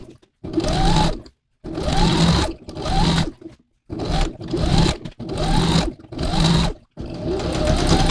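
A sewing machine stitches a round neckline on stretch fabric, running in about seven loud, close bursts with short stops between them.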